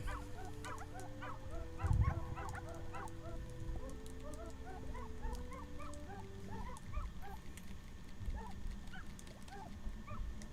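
Cartoonish dog barks and yips from the King of Hearts scene in the video game Wandersong, a quick stream of small, bright barks over sustained game music, with a dull thump near the start.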